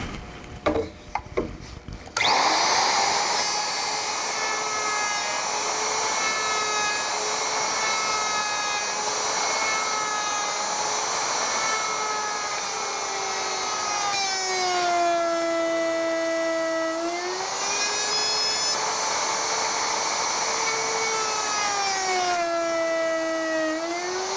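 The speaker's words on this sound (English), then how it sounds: "I have a 1/2 inch dovetailing bit set up in my router with a 5/8 collar, and we'll just run that through" Router with a 1/2 inch dovetail bit and 5/8 collar cutting wood, a steady high-pitched motor whine that holds for over twenty seconds, dipping slightly in pitch under load, loud and close.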